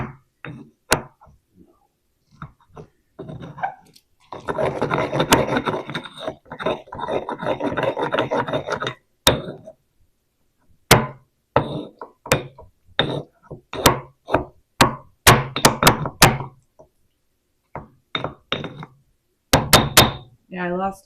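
Peaches pounded with a mortar and pestle in The Sims video game, with irregular thuds and grinding rubs, including a dense stretch of rapid pounding, mixed with people talking.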